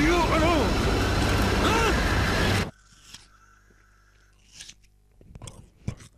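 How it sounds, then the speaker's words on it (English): Someone bites and chews an apple in short crunchy bursts close to the microphone. The bites come after loud Battlefield 3 game audio cuts out, leaving quiet gaps between them. "I am eating an apple"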